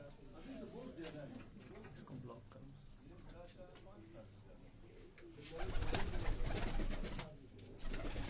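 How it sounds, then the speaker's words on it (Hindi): High-flying pigeon, a heavy-bodied bird, coos softly in repeated low notes close by, while someone talks over it and background noise swells briefly near the end. "ये वो पीली कड़ी वाला कबूतर है"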